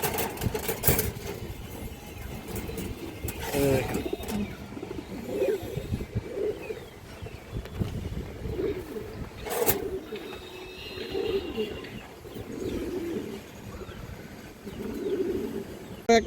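Pigeons, including a silver khaki male, coo softly and intermittently at moderate distance, with a low engine-like hum and scattered handling noises running through the background.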